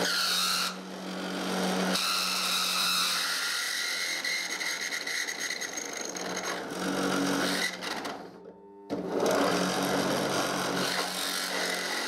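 A power drill whines steadily with a grinding, rattling metal scrape as the bit grabs a washer and spins it while enlarging its hole, pitch shifting as the load changes, cutting out briefly before resuming.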